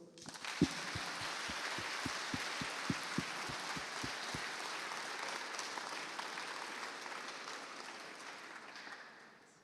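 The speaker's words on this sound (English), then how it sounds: "I think you all deserve a big applause" Audience applause at the MedCup closing ceremony, a large crowd clapping steadily and evenly for almost ten seconds, with a row of low, regular thumps through the first four seconds that slowly fades out.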